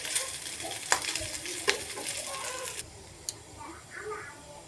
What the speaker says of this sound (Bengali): এটাকে একটু ভেজে নিচ্ছি।